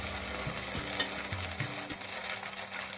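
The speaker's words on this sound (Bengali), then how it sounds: "পেঁয়াজটা ভাজা হয়ে গেছে, এবার আমি এই মশলার পেস্টটা আমি এর মধ্যে দিয়ে দিচ্ছি।" Spice paste hits browned onions in a hot pan for a Bengali fish curry, giving a steady close sizzle with a few stirring scrapes, no voices.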